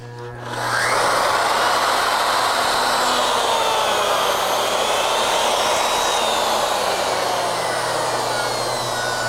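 A Legacy Ornamental Mill router cuts wood at a slightly readjusted plunge depth, a loud steady high-pitched whine and broadband rush that spins up in the first second and holds without break.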